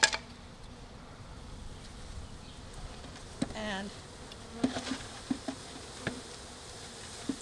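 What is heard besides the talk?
honey bees buzzing while poured into hive box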